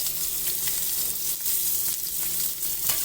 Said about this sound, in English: I'm going to get that fat a little bit crispy, rendered down